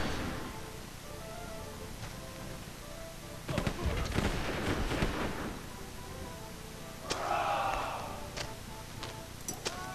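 Scattered gunshots and artillery-like booms from a battle in Sid Meier's Pirates, a cluster of sharp reports in the middle and isolated cracks later, set over a quiet ambient game backdrop with faint tonal music.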